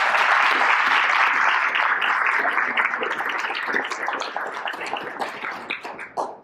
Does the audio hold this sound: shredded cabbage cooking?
no